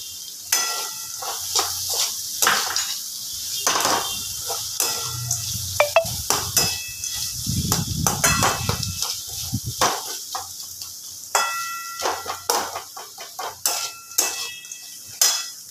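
Fried peanuts and a little chopped onion are stirred in a pan while making flattened rice pulao: repeated scraping and clinking of a spoon against the pan over a soft sizzle, loud and close.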